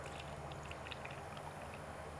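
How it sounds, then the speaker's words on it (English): Pickling brine poured gently through a funnel over beets in a home kitchen, a soft steady trickle and gurgle of liquid running continuously without a break. "I'm going to put the funnel back on. And then I'm just going to gently pour"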